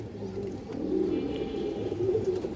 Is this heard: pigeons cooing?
yes